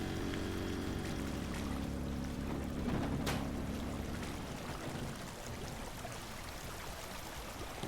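In the DrainSim video game, a sump pump drains water at the deepest part of a forest, giving a steady rushing, pouring flow with a brief splash partway through; no talking.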